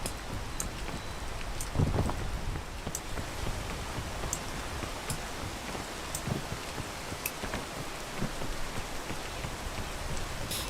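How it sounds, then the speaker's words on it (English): Steady rain falls in a video game, a constant hiss of drops with occasional sharper spatters and brief gusts, with no one talking over it. "can this rain stop?"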